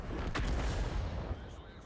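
An artillery shot in World of Tanks from a G.W. Tiger self-propelled gun: a deep, heavy boom with a long rumbling tail, close and fairly loud, with a voice faintly underneath.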